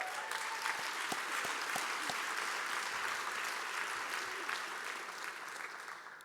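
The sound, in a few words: audience applause at awards luncheon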